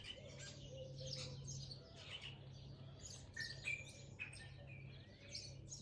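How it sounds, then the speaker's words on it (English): Birds sing and chirp outdoors in spring, with repeated short high calls scattered across the whole stretch over a steady low hum and soft ambient background, moderately distant and fairly quiet. "Beautiful bird song."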